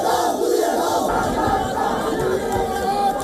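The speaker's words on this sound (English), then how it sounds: "The crowds cheered as fires torched the building." An outdoor protest crowd cheers and shouts as Hasina's family home burns, a dense, loud roar of many voices with no pauses.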